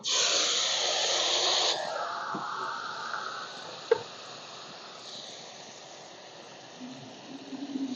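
Chili paste and garlic paste hitting hot oil with browned chopped onions in a pan, giving a loud steady sizzle that slowly settles into a softer hiss, with a brief clink midway.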